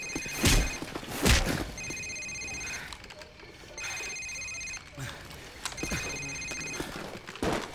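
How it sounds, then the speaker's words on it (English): A cell phone ringing in Call of Duty 4: Modern Warfare, a repeated electronic ring in regular bursts with brief pauses, mixed with thuds and faint background activity. "Sir, it's his cell phone."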